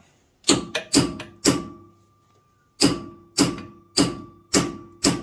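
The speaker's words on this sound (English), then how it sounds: "I got a hammer here, if I can swing it." A hammer strikes bent metal on a wrecked T-Rex trike frame during a repair, a cluster of four sharp ringing clangs, a pause, then five evenly spaced heavy blows, close and loud with a lingering metallic ring.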